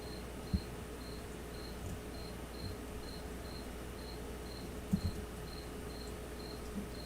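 A cricket chirps indoors in a quiet room, faint and steady, its evenly spaced high pulses repeating throughout with a few soft knocks nearby.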